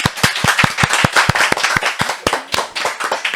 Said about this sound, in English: round of applause for Garrie